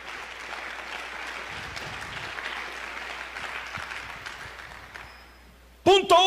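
A church congregation applauds during a Spanish-language service, a steady wash of many hands clapping for several seconds at moderate loudness, ending in a sudden louder burst of sound.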